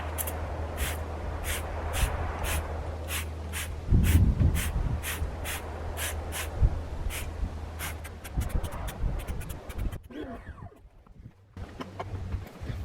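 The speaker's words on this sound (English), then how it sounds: "let's go ahead and spray this on, see how well it works, and also how thick this formula is" A trigger sprayer repeatedly mists Koch-Chemie Magic Wheel Cleaner gel onto a car wheel: about a dozen short, sharp hissing bursts in a fast regular rhythm, close and clear, with some handling noise between them and a brief pause near the end.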